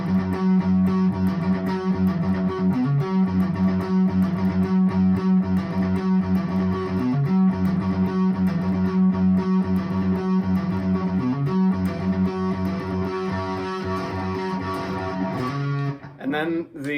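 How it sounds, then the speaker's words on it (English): Distorted electric guitar chugging a palm-muted riff in a steady driving rhythm, loud and close, with the muting eased off gradually so the notes open up near the end before a brief pause. "just like slowly lift up the palm muting, so it sounds like this"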